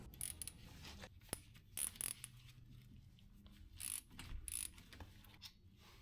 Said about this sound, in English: we're going to take out two bolts here on the back side of the brake assembly